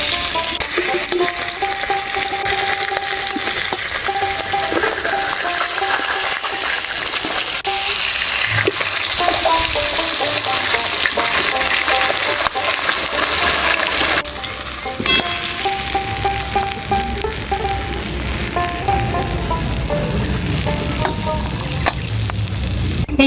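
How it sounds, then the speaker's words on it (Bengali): Bhangan fish fry in hot oil with a loud, continuous sizzle, broken by occasional scraping stirs, and no talking. "এই মাছগুলো এবার পরপর ভেজে নেব।"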